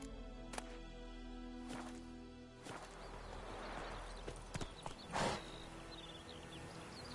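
Horse hooves clip-clop in The Witcher 3, a few distinct steady hoofbeats over a quiet game ambience with a constant low hum, no talking.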